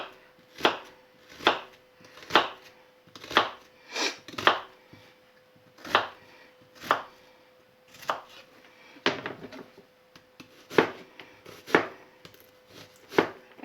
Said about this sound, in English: Nice cut onion.